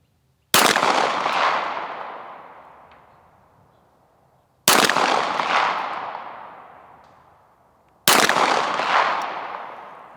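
Walther PDP pistol fired at a long-range target outdoors, three loud sharp shots spaced about four seconds apart, each one trailing off in a long fading echo.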